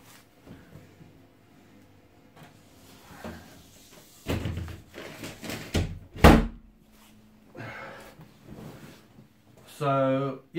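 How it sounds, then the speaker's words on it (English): A door is shut indoors at home while a speaker talks about home brewing kegs: a series of thumps and clunks, one sharp loud bang in the middle, with a voice briefly heard at the end. "just to close the door"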